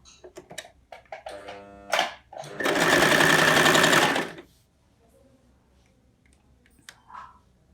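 A sewing machine stitches fabric for an apron made from an old kurti, starting with a few short clicks and bursts, then a loud steady whir for about two seconds before it stops and a quiet room follows.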